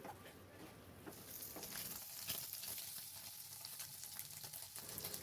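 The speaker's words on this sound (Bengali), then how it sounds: "এবার 1 চামচের মতো বাটার দিয়ে পনিরগুলোকে দিয়ে দেব। পনিরগুলোকে হালকা করে ভেজে নেব।" Large pieces of paneer fry in about a spoonful of butter in a pan, giving a faint, steady sizzle broken by small crackling pops, with no talking.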